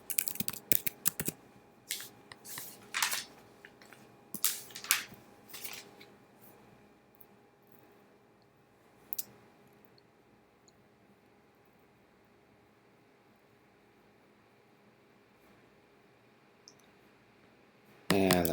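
Keys on a computer keyboard are pressed in short bursts of sharp clicks during the first seconds, then a long near-silent stretch with a faint hum, one isolated tap, and a final cluster of clicks.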